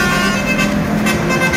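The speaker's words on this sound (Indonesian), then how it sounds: "Petugas menegur pengemudi bus antar kota antar provinsi yang kedapatan membunyikan klakson telolet." An intercity bus's telolet horn sounds on a Jakarta street: a loud, sustained run of steady musical horn tones that fills the whole stretch over traffic.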